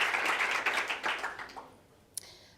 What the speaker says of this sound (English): So applause to the guys in the morning session